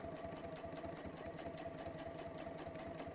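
A sewing machine stitches along a folded fabric edge, running steadily with a fast, even mechanical whir and rapid needle clatter throughout, close and fairly quiet with no voices.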